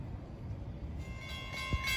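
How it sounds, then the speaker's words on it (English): A fairly new Kawasaki M9 commuter train on the Long Island Rail Road passes with a steady low rumble of rolling stock, faint horn-like tones rising near the end and a brief thump, no talk. "then you have this third train coming with a fleet of fairly new Kawasaki M9's"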